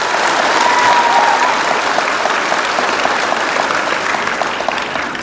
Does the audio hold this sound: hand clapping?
yes